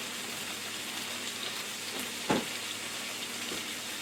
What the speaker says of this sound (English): I'm just going to let this burger cook for a minute